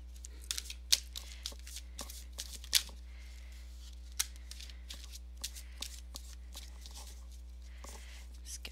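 Tarot cards are shuffled and drawn in a quiet room, giving soft irregular riffling flicks and taps scattered across the stretch over a low steady hum.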